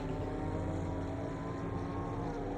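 Group C race car engines roar at Sebring in a dense, continuous, loud drone that fills the whole stretch without a break, with no talking over it.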